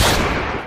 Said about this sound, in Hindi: फिर से गोली चली